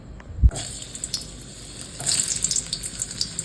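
Potatoes frying in a pan, a thump as they go in followed by a continuous close sizzle that grows louder and busier with crackling spatters.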